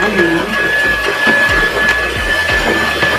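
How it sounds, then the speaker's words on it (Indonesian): A very old Philips electric mixer, bought in 1982, beating cake batter with a loud continuous whirring drone and rattling, close by, under steady talk. "ini mixer Oma sudah sangat tua sekali"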